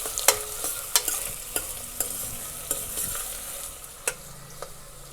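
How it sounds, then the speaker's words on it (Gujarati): Chopped onions cook in a pan over a low gas flame, with a faint steady sizzle under repeated sharp scrapes and taps of a spoon stirring against the pan. "ગેસની ફ્લેમ લો રાખીને કાંદાને થોડી વાર ચડવા દઈશું."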